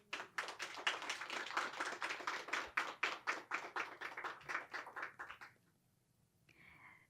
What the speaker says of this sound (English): once again, give a huge round of applause to Dr. Mairita Matiagodage